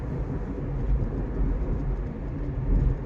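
A heavy, continuous low rumble of a train passing a railway level crossing fills the scene, steady and fairly loud with slight swells, no voices heard.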